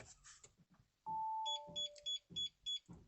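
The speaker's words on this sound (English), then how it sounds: "cycle the ignition off and on, we get 5 bleeps" A Starline i96v2 immobiliser in a 2021 Audi RS Q3, being programmed, gives five short, evenly spaced high bleeps, close and clear after a longer opening tone.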